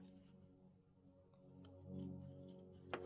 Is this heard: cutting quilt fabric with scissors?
yes